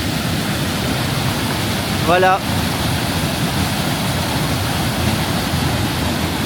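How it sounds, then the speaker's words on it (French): A waterfall at a secluded van-life spot gives off a steady, unbroken roar of rushing water that lasts from start to finish, with a person briefly speaking over it. "Et voici la fameuse cascade."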